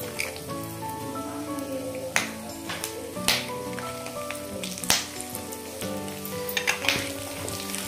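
Raisins fry in hot oil in a pan, with a steady close sizzle and scattered popping crackles throughout and no talk.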